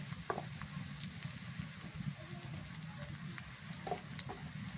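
Onions fry steadily in a hot pan, then chili powder goes in; crackles and pops scattered through and the soft scrape of stirring now and then.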